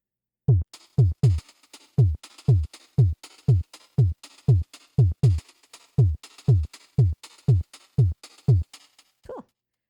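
Drum loop built from a top hat sample on the Baby Audio BA-1 synth, about nineteen punchy hits in a steady driving rhythm, each with a fast pitch-dropping thump and a bright noisy tail, playing alone and up close.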